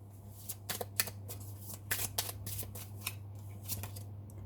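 Tarot cards are shuffled and drawn nearby, giving quick, soft flicking and riffling snaps in an uneven rhythm over a faint steady hum.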